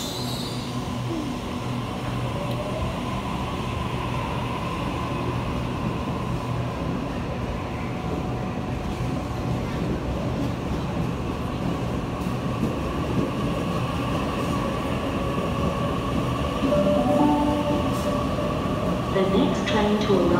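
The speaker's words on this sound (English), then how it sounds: "That was B34 departing platform 17." A train rumbles continuously as it departs a station platform, a steady low roar that swells slightly toward the end, with faint voices in the background.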